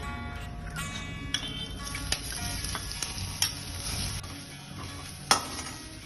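Finely chopped ginger, garlic and chili hiss and crackle steadily in hot oil with cumin, a close, continuous sizzle broken by a few sharp clicks and scrapes of stirring, with no voices.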